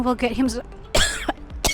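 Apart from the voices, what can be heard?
coughing fit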